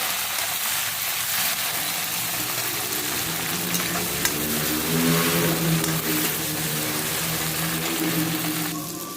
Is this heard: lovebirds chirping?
no